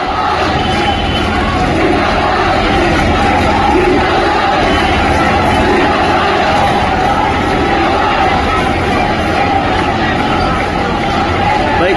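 A dense crowd of protesters at Patel Chowk in India roars and shouts during a police lathi charge. The babble of yells and raised voices is loud, constant and close, and never lets up.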